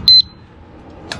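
Two quick electronic beeps from a disc brake lock alarm being locked onto a Lectric XP e-bike sound close up, followed by quiet background and another short beep at the end.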